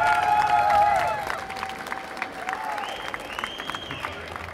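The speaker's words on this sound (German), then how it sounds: "Und mal einen kleinen Applaus für unsere Süßen, bitte." Audience applause at a Gamescom 2011 stage show at a games publisher's booth, a loud burst of clapping that fades after a second into a noisy convention-hall crowd, with electronic tones and brief voices over it.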